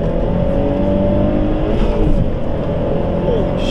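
Mazdaspeed 3 accelerating hard on an open road in Mexico, heard from inside: a loud, sustained engine roar with rising tones and continuous road and wind noise, no talking during the pull.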